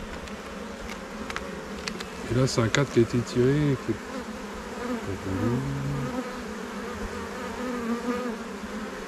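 Honeybees buzzing steadily around an opened hive while swarm colonies are being inspected, a continuous insect hum with a French-speaking voice over it and a brief clatter as a frame is handled.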